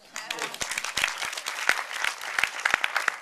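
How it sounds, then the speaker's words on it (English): Brief applause from an audience at a Q&A session for A Thousand Kisses Deep, scattered individual claps quickly building into a close, lively burst of clapping. "And you should get a round of applause."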